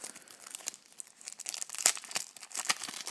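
Plastic Lego Dragon Ball Z minifigure packet crinkling and tearing open, a run of sharp rustles and rips with a few louder snaps, close and alone.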